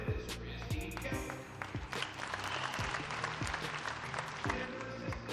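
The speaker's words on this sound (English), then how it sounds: "Please give a round of applause to the South Carroll head coach, Ms. Christine Kemp." Crowd applause at a South Carroll at Liberty high school varsity volleyball match in a gym, steady and fairly loud for about five seconds, with music and a busy crowd underneath.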